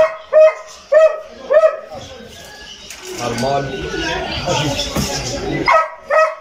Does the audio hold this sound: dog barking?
yes